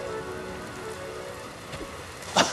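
In the video game Dragon Quest Builders 2, steady rain falls as a soft, even hiss, with a short louder splash of rain near the end and no voices.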